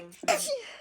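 A single short, sharp sneeze bursts out after a quick intake of breath, close and fairly loud.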